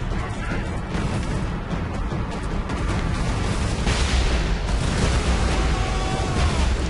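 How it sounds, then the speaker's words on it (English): Explosion in the Space Marine video game during co-op play, a dense, loud rumbling blast texture that stays sustained and noisy throughout, with a second surge of energy partway through. "Well, you just exploded,"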